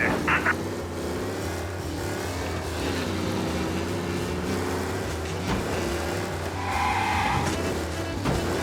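A car speeds through city streets in the Mafia video game, its engine droning loud and steady with revving surges and a brief tire skid near the end.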